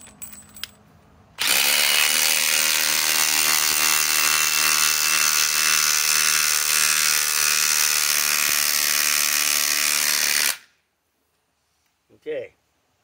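A Milwaukee M18 Fuel Gen 4 2953-20 impact driver on a 6 amp Forge battery drives a 4-inch lag screw into a pre-drilled hole in wood, one loud continuous hammering buzz lasting about nine seconds before stopping dead.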